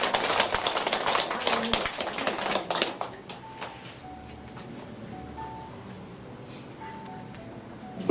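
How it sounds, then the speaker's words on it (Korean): An audience at a Buddhist temple gathering gives a burst of scattered clapping for a woman being introduced; it fades after about three seconds, leaving quiet room tone with faint ringing tones. "큰 박수로 맞이해주시기 바랍니다"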